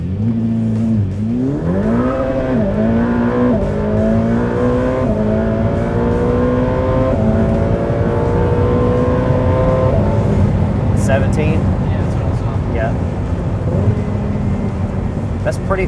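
Ferrari F8 Tributo and Jeep Trackhawk drag racing from inside a car: a loud engine revs up through several rising gear pulls, steady roaring under acceleration, with wind and road noise building toward the end.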